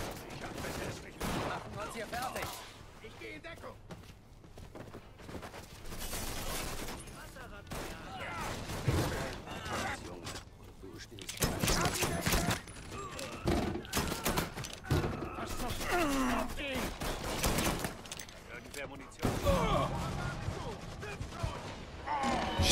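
Bursts of gunfire and explosive crashes from the video game Mafia III, a street gunfight with repeated loud volleys, continuing throughout under someone talking in German.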